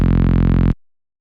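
A single sustained, buzzing Reese synth bass note made in Serum for liquid drum and bass, thick and gritty with distortion and multiband compression, holds steady for under a second and then cuts off abruptly.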